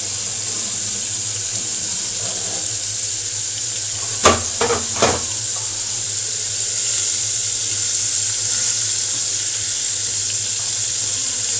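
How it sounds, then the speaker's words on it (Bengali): Pointed gourd (potol) slices frying in oil in a pan, a steady loud sizzle throughout with a few brief clinks of a utensil partway through. "দেখেন আমি সবগুলো পটল ভাজি দিয়েছি।"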